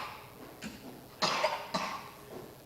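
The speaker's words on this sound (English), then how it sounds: "I guess kids cough." A child coughs several times at a moderate distance, in short harsh bursts with one more forceful pair in the middle, over a low background hum.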